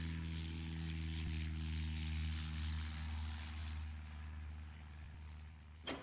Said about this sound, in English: Junkers provided planes